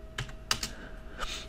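Several quick keystrokes on a computer keyboard as a command-line help switch is typed in a ModelSim session, a short irregular burst of clicks, close and clear with no talking.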